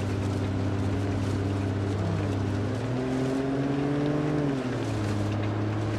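A car engine in the BeamNG.drive driving game, in a multiplayer off-road session in mud. It drones steadily and loudly for the whole stretch, its pitch climbing and dipping as the throttle is worked, with no talk over it.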